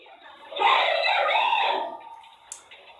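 A voice screams loudly for a couple of seconds, strained and high-pitched, then fades into a quieter background.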